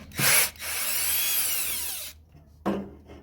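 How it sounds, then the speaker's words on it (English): A power drill driving a T30 Torx screw on Jeep fog light mounting whirs in a short burst, then runs steadily for about two seconds, pauses, and starts again briefly; close and loud, no voices. "I have a T30 Torx, and we're gonna put this in our drill."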